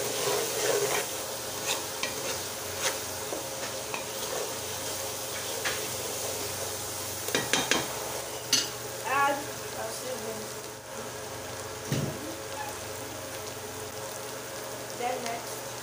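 Jollof spaghetti is stirred in a pot over a soft, constant sizzle, with intermittent scraping and clinking of the spoon at irregular moments throughout.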